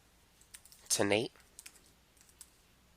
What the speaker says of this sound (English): So I'm going to type in equal concatenate